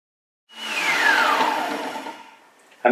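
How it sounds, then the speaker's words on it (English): An electric whisk beating a zero-carb keto ice cream mixture, switching on abruptly and whirring steadily with a falling pitch, then tapering off before a sharp clatter at the end. "So let's whisk that again."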